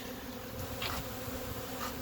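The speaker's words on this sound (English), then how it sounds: "I just love bees" A soft, steady buzzing of bees goes on throughout, fairly faint and even, with no voices.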